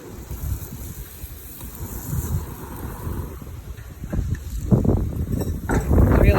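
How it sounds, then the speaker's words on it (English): Strong wind gusts buffet the microphone outdoors beside a backyard grill, a loud rumbling roar that swells and grows stronger toward the end, with no voices. "It's really windy out here."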